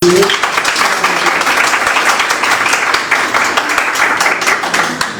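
Church congregation at a Sunday service applauding, steady, fairly loud clapping filling the room from start to finish, with a voice briefly audible at the opening.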